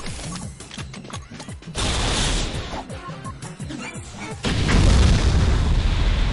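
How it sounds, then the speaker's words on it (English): Repeated nuke explosions in the video game Jak 3, heavy booming blasts and rumbling crashes that swell loudly in waves amid clanking mechanical game effects. "Because I have unlimited ammo, I can just use as many nukes as I need."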